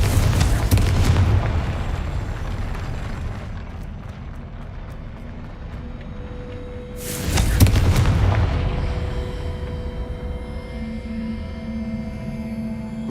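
Confringo blasting spells going off in Hogwarts Legacy on PC, with a heavy booming blast at the start and another loud explosion around the middle, each trailing into a rumbling, ringing tail.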